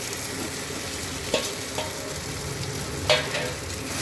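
Potatoes and pointed gourd tipped into hot spice paste frying in oil, giving a steady close sizzle with a few sharp scrapes and stirring clatters, no talking.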